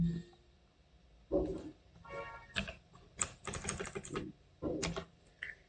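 Quick bursts of clattering keystrokes on a computer keyboard, irregular and close, with short pauses between runs and a firmer key press near the end.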